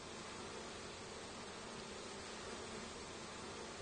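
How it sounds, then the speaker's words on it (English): Honeybees around a rented backyard hive give a faint, steady hum, an unbroken soft drone with no talk over it. "the honeybees are pretty gentle, as you can tell, a pretty gentle bee"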